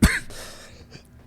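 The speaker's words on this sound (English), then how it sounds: "just coughing directly into the mic" A sharp cough bursts right up against the microphone, followed by a quiet pause and another abrupt cough at the end.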